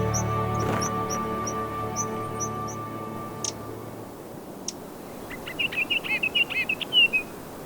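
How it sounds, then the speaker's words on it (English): High mountain birds in the Hehuan Mountains chirp and twitter in high, quick bursts, a short trill repeating near the end, over a faint breeze and a low hum that fades early. "You will hear all kinds of high mountain birds singing in the cold mountain air."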